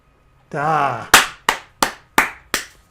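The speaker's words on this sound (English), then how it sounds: "Clapping at myself." One person claps for themselves: a short vocal sound first, then five sharp, close, separate hand claps at an even, unhurried rhythm, each ringing out briefly.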